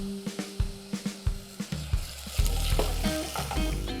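Apples sizzling and frying in a pan with a dash of olive oil, a steady close crackle with a few stirring scrapes at the start and the sizzle swelling louder through the second half.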